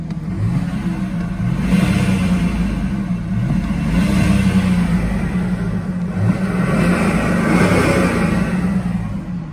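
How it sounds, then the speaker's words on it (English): A BMW E60 530d with a straight-piped exhaust and a cast-iron diesel engine accelerates hard. The loud, deep exhaust rumble rises and swells steadily throughout, with no talking over it. "So this car's got a straight pipe and you can hear it when you put your foot down a lot."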